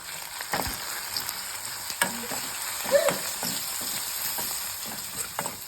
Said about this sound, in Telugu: ఇది ఇలా తాలింపు కాలిపోయింది